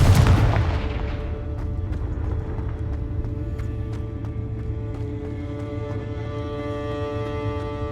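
A Confringo spell in Hogwarts Legacy sets off a loud, booming explosion at the start that rumbles and decays into a lingering ringing, with faint clicks and game sounds afterward.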